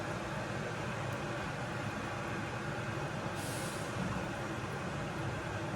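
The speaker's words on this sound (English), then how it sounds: "And there's a truck outside." A truck passes outside behind a constant broad rumble, and one short hissing burst of its air brakes cuts in partway through before the steady noise carries on.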